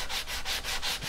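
Hand sanding of a wooden paddle by hand without a block, a close, steady rhythmic rasp of abrasive strokes, about four back-and-forth passes in quick succession, with no voices.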